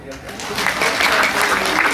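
Audience applause at a sales seminar, a dense wash of clapping that swells and holds steady, mixed with some voices.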